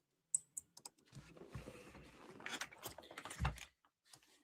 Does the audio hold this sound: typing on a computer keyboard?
yes